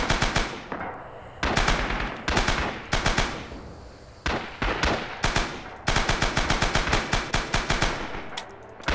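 Rapid bursts of machine gun fire from a mounted nest in the World War II shooter Rising Storm, loud and close, with short rattling volleys separated by brief pauses over about nine seconds.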